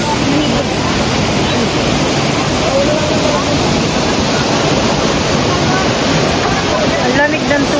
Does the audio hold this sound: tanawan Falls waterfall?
yes